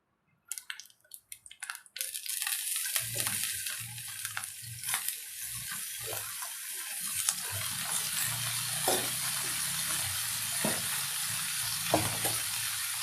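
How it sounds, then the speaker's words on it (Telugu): Paneer pieces fry in a pan of ghee and oil, giving a steady close sizzle after a few quiet clinks, with occasional sharp scrapes and taps from stirring. "ఇందులో ఫస్ట్ పన్నీర్లు కొంచెం దూరగా వేయించుకోవాలి."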